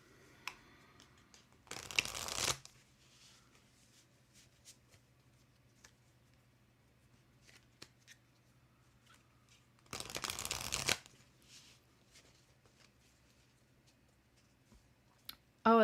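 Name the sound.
tarot cards being shuffled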